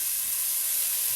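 Onions sweat and hiss steadily in a hot pan for a vegetable curry, a soft even sizzle with no other sound.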